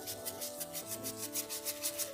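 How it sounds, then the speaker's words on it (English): A carved wooden lovespoon bowl is sanded and shaped by hand with quick, even rubbing strokes that repeat in a steady rhythm, soft and close, with no voices. "Sanding and shaping it like so."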